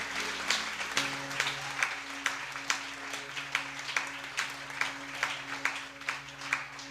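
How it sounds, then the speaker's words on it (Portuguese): A church congregation gives a round of applause for a member during a Sunday celebration service, with dense sustained clapping and sharper individual claps standing out over a low steady hum. "Você pode dar uma salva de palmas pela vida da nossa irmã?"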